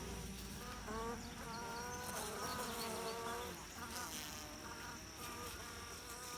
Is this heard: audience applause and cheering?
no